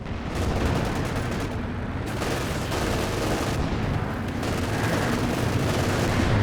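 Sustained battlefield gunfire from the Company of Heroes 2 strategy game, a dense, continuous crackle of machine gun bursts and shots with heavy low rumble, loud and steady throughout.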